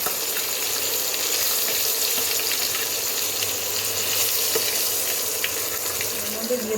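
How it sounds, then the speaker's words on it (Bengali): Fenugreek seeds dropped into hot oil in a pan after frying hilsa fish, giving a steady, loud, close sizzling hiss throughout. "মেথি ফোড়ন দিয়ে দিলাম"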